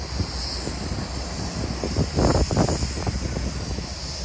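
CP freight train 137 departing Toronto Yard on the Belleville Subdivision, a low steady rumble of rolling cars that swells briefly in the middle, over a constant wind-like background hiss.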